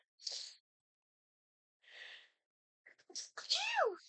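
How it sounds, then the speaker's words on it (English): Two short breathy bursts, then a loud close sneeze with a rising vocal squeal, in an otherwise quiet space. "I'm gonna sneeze."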